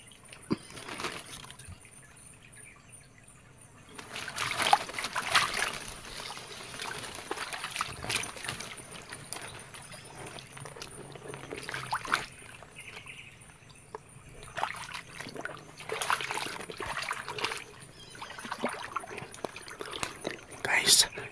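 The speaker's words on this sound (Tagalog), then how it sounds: "Dito ako sa tubig dumaan." Splashing and trickling water as someone wades through it, soft irregular sloshes under low whispered voices.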